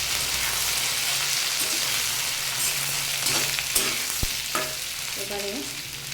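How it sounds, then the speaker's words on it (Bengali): Papaya, potato and taro stolons fry steadily over low heat, a soft continuous sizzle with occasional stirring scrapes and light clinks, close and with no one talking. "কম আঁচে সুন্দর করে ভাজতে হবে আর সবজিটা।"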